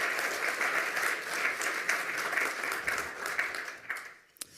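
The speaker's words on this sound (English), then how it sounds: "Give him another round of applause for being the first of the day and having so many slides." An audience at a lightning-talks session applauds loudly and steadily for a presenter, then the clapping thins and fades out near the end.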